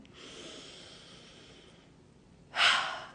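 A long, slow inhale of breath, close and soft, with a louder breathy burst near the end, in a quiet setting with no talking.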